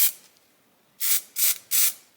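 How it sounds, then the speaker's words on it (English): A spray paint can primes a Mordheim gaming board: one short hiss, a pause, then three quick bursts of spraying in a row, close and crisp against a quiet room. "I really like working with the spray cans."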